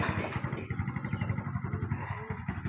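Beside a road, a passing motorcycle putters with a rapid, throbbing engine pulse at moderate distance, steady through the short stretch amid general traffic noise.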